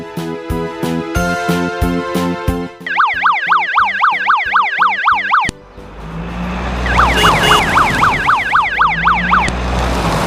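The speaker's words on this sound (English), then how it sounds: "This is ambulance" A small toy ambulance plays a tinny electronic tune, then a rapid wailing siren that cycles up and down, cuts briefly, and returns louder over a buzzing motor-like hum.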